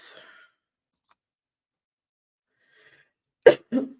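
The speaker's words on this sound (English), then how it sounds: "I'm sorry for coughing in the mic." A sharp, close cough into a microphone, followed quickly by a second smaller cough after near silence.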